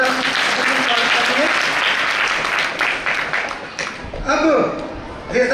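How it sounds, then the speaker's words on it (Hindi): An audience at a devotional gathering gives loud, dense applause for the devotees, sustained clapping that fades toward the end with some voices and a chuckle. "इसलिए एक बार सभी भक्तों के लिए जोरदार ताली द्वारा।"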